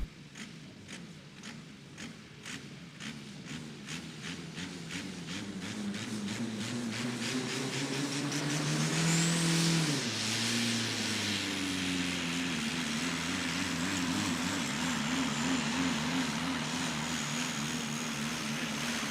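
Diesel Weasel, a 600 kg compact diesel pulling tractor, roars at a tractor-pulling event with a steady droning engine note that climbs in pitch and loudness toward the middle, dips briefly, then holds a strong sustained pull.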